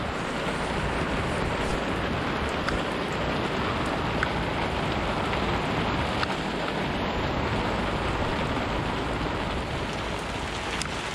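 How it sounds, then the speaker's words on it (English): Heavy rain pours steadily and loudly, a dense continuous hiss of drops on surfaces with no pauses and no voices. "What a rainy week."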